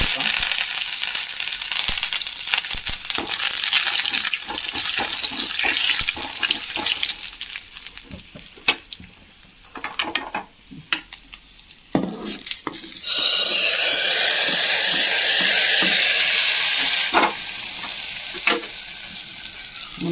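Fenugreek seeds, dried red chillies and curry leaves frying in hot oil after mustard seeds for a Kerala lentil and taro-leaf curry, a loud close sizzle with crackles and spoon stirs, dipping briefly before a sharp surge of hissing.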